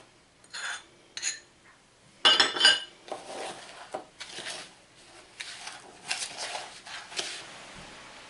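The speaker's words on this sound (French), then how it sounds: "Là, j'ai mon beurre qui est fondu. Je l'incorpore." Melted butter being stirred into blended biscuit crumbs for a giant Oreo dessert, heard as a series of close scraping and clinking utensil strokes against a bowl, with a louder burst of clatter partway through.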